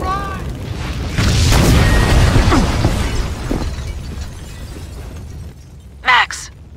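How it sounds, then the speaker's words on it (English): A building blowing up in the video game Max Payne, a loud, sustained roaring blast with crashing debris for several seconds, fading into rumble, then a brief sharp burst near the end; voices are heard around it. "The building's blowing up."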